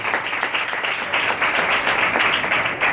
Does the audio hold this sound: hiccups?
no